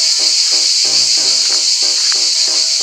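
Loud, dense buzzing drone of cicadas in a forest beside a river, steady throughout, with a faint voice-like harmonic pattern repeating underneath.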